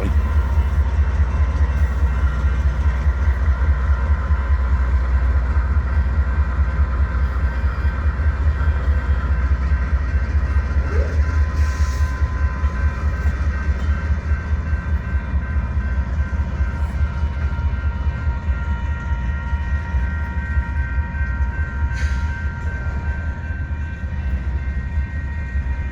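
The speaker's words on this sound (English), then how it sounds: "Getting another shot of this train" A Union Pacific freight train passes at Missouri Valley, Iowa, a loud, steady rumble of rolling cars with low engine drone and rail noise, sustained for the whole stretch.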